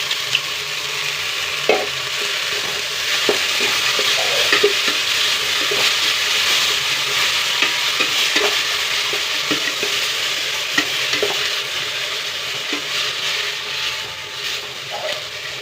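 Masala for sprouted horse gram sambar fries in a pan with a dense, continuous sizzle, while scattered light scrapes and taps of a stirring spoon sound close over it throughout, with no voices.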